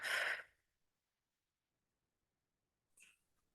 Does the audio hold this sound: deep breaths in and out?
yes